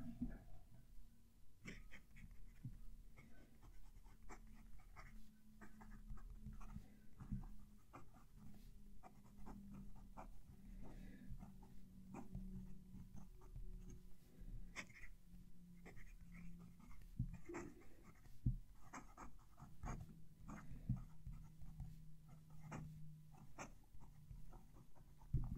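A scratchy fountain pen nib, a Conklin All American Golden Walnut or Jinhao 9056, scrapes across paper in a close, faint, continuous rasp of short strokes, with someone breathing and talking quietly nearby.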